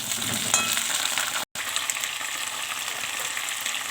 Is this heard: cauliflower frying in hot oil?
yes